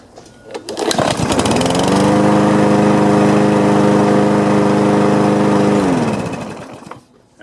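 A Troy-Bilt TB200 small engine catches with a sputtering start, then settles into a loud, steady buzzing drone for several seconds before winding down and cutting off near the end.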